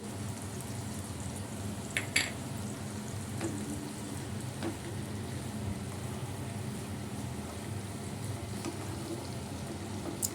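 Radish fries in oil with turmeric and chili powder, giving a steady close sizzle throughout, broken by a few faint clinks of utensils.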